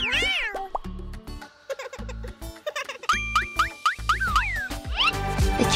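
Cartoonish kitten meows in a stop-motion paper craft setting, many short rising and falling mews in quick succession over bouncy music and playful sound effects, loud and close.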